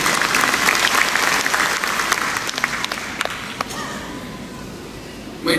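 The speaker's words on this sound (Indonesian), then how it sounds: "Dari kita tepuk tangan buat Pak Christian dulu." An audience at a church's 60th anniversary closing event claps in a dense burst that gradually thins out over several seconds and fades toward the end.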